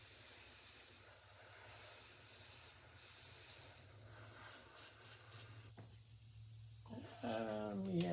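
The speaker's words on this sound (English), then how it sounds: "now I'm just going to spray my wood" Airbrush spraying black paint onto a wooden fishing lure, a steady close hiss running in long bursts with short pauses, separate from any talk.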